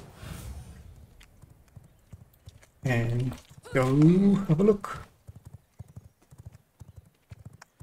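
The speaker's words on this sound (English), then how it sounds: "We can jump on a horse" Horse hooves clip-clop in a steady, quiet rhythm while riding in the vampire survival game V Rising, with a louder horse whinny partway through and someone talking briefly over it.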